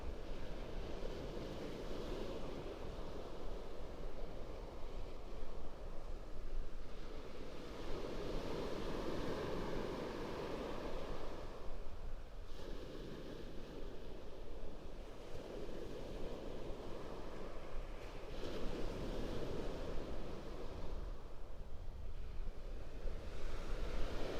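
Ocean surf rolls continuously onto the beach at Pawleys Island at sunrise, with steady broadband wash swelling and easing every few seconds, mixed with some wind rumble on the microphone and no voices.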